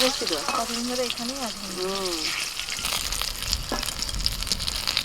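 Steady, hissing sizzle of tender eggplant frying in hot oil runs throughout, with a person talking over it in the first half and occasional stirring clinks.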